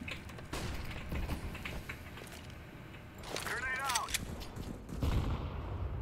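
Gunfire from several directions in the video game CS:GO, rapid bursts of shots crackling at mid distance amid game noise, with a brief mechanical whine, and voices talking over the action.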